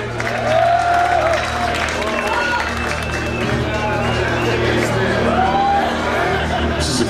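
A concert crowd at a show in Athens claps and cheers loudly, with scattered whoops and shouts over steady applause and a low stage hum beneath.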